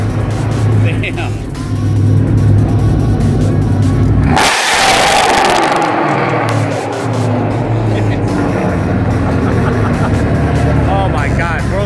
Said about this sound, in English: world's loudest Mustang